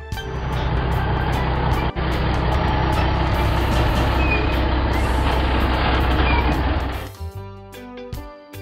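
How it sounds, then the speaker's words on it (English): A wheel lift tow truck engine rumbles loudly and steadily for several seconds, then cuts off abruptly, leaving a quieter idle with faint clatter. "Wheel lift tow truck."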